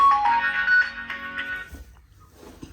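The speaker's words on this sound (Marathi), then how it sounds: "फोन आण पळ आतमध्ये, फोन वाजतोय" A phone ringtone plays loud and close, a repeating electronic melody that cuts off partway, leaving faint room noise and a soft voice.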